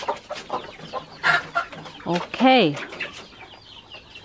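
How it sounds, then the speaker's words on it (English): Chickens cluck and squawk nearby in short bursts on a farm in the Philippines, one loud drawn-out squawk standing out, with a person briefly speaking among them. "there's another chicken here laying eggs"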